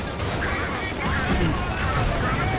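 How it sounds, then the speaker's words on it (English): Mortar shells strike Panther and Panzer IV tanks in the WWII strategy game Company of Heroes 2, heard as a dense wash of explosions and gunfire under a commentator's voice. "Another mortar being brought in. Hits the Panther."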